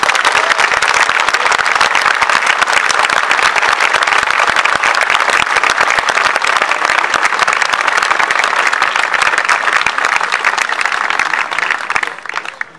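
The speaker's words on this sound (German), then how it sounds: "Nochmals ein herzlicher Applaus für die Militärmusik." Sustained, dense applause from an outdoor crowd for an Austrian Armed Forces military band at a soldiers' swearing-in ceremony in Krenglbach, steady and loud for about twelve seconds before tapering off at the end.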